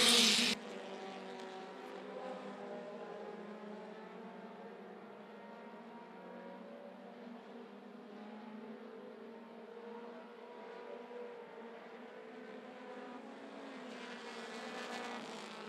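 Race cars roar around Tazewell Speedway on the final lap, a loud, continuous engine drone that holds steady and swells slightly near the end, with no voices over it.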